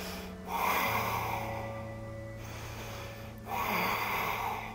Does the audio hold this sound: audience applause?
no